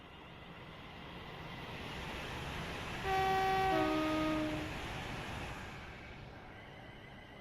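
A Class 350 electric train pulling away in Train Sim World 5 on the West Coast Main Line toward Euston, a smooth rising motor hum with a brief tonal horn or whistle midway, steady and alone.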